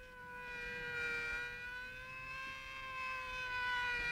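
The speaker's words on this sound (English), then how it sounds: "It's a police car." A police car siren, a sustained wavering wail with harmonics, heard at a moderate distance and swelling slightly, with no one talking over it.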